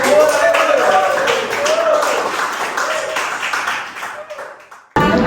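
Classroom clapping from a group of students, a dense sustained patter of many hands for several seconds before fading out, with voices mixed in.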